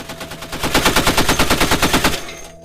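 A Navy machine gun firing live rounds in one sustained burst of rapid, evenly spaced, loud, close shots lasting about a second and a half, then cutting off abruptly.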